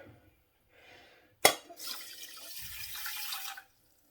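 A sharp clunk followed by a couple of seconds of cold water pouring steadily into a saucepan, close by, then it stops.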